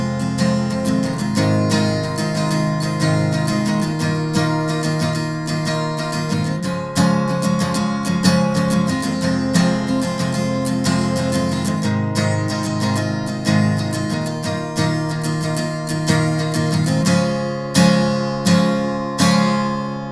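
A guitar plays the outro of a song, steady strummed chords running continuously and loud, picking up a driving rhythm toward the end with sharp percussive strums.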